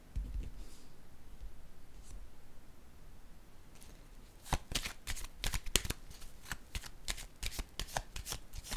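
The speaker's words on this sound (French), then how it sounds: "Je vais déposer une carte sur le mot ferme" Playing or oracle cards are handled and laid down in a quiet room: faint rustling at first, then a series of crisp, close flicks and snaps as cards are shuffled and placed.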